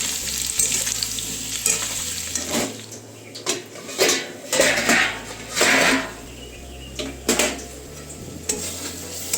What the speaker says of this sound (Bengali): এদিকে দেখো আলু ভাজা বসিয়ে দিয়েছি